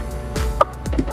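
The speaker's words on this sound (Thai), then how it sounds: "มีไก่ตัวหนึ่งเข้าบ้านเรามาด้วย" A Minecraft chicken gives a couple of short, clear clucks in quick succession, close and loud with nothing else around it.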